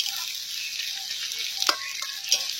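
Onions, tomatoes and capsicum frying in a wok make a steady sizzle, with a couple of short scraping stirs standing out over it. No one speaks.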